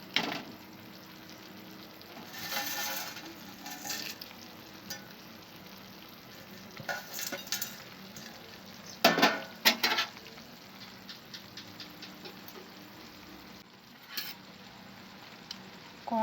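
A metal kadai shifts and scrapes on the stove while masala Maggi noodles are stirred, with a steady frying sizzle underneath, scattered clanks and scrapes, and a sharper burst of knocks near the middle.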